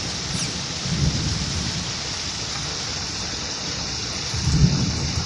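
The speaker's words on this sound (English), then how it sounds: "Rain happening." Steady rain during flooding in a residential area, a continuous loud hiss of falling water with two low rumbling swells, likely distant thunder, and no talking.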